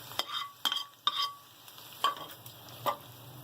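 Golden fried onions are stirred in a pan: a handful of sharp, close scraping strokes at irregular intervals over a faint, steady sizzle, with no talking.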